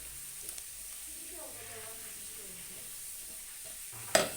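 A ground paste of tomato, onion and coconut masala roasts in a pan, giving a soft, low sizzle with faint stirring and a brief sharp clatter at the end, while a voice talks faintly underneath.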